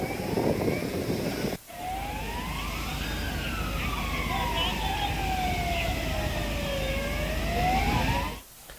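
Fire engine siren at a blazing fire, wailing in a slow rising and falling sweep over steady background noise. The sound cuts out briefly near the start and again at the end.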